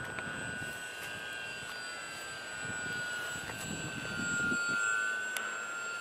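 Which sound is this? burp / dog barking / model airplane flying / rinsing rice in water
model airplane flying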